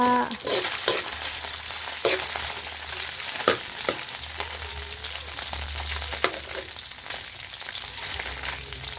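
Fish sizzling as it fries in hot oil, a steady crackling hiss with occasional louder pops and spatters, close and continuous, no voices.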